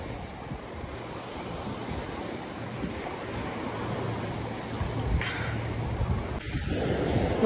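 Surf rolls in at a beach near Praia do Sino, a steady, moderate wash of breaking waves with some wind buffeting the microphone, no voices.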